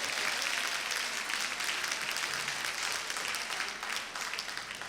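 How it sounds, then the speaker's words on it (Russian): Concert audience breaks into sustained applause, a thick, even roar of many hands clapping heard alone for several seconds before thinning slightly at the end. "ваши аплодисменты"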